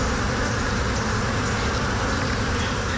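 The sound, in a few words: honey bees buzzing at an apiary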